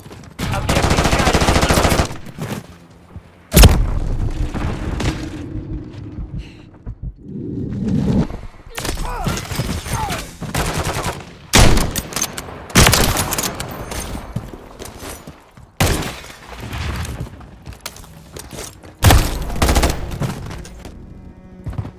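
Repeated automatic gunfire bursts in a Call of Duty multiplayer objective match, loud and close, coming in uneven volleys with short quiet gaps between them, plus whooshes and a few booms.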